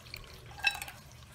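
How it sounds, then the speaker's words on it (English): Star anise liquid poured through a strainer into a cup, heard as a single faint, brief trickle and drip in an otherwise quiet room. "I'm gonna use a strainer to pour the liquid out."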